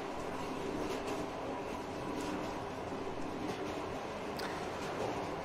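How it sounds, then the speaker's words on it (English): A train rolls along in the video game Metro Exodus, a steady low rumble with faint rail clatter and occasional clicks, continuous and moderately quiet throughout, with no voices. "this is like a bonus train that we attached"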